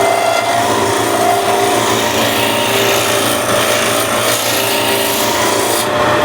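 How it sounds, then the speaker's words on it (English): A skew chisel makes a peeling cut on wood spinning on a lathe, giving a loud, continuous rasping scrape that holds steady throughout. "This is a peeling cut with the skew, so I'm going above the rotation."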